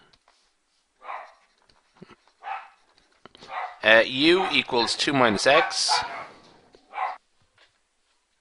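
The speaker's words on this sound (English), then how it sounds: "I had to take a quick pause there because my dogs are barking" Dogs barking in short, separate bursts at a moderate distance, then a voice talking steadily over them, with one more bark after the talking stops.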